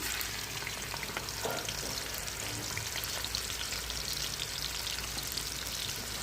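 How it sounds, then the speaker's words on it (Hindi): Onions sizzle and crackle steadily in hot ghee, a constant close frying hiss with occasional louder pops and no talking. "प्याज जो है वो फ्राई हो चुका है"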